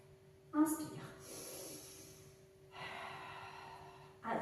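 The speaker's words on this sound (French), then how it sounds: "Inspire." In a high-intensity pilates workout for deep abdominal and back muscles, long hissing breaths are drawn in and pushed out near the mic, set apart by short vocal sounds from the instructor.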